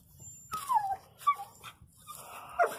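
Dog whimpering on a job site where plywood is being measured and cut, with several short high whines rising and falling across the clip, fairly close and clear over a low background hum.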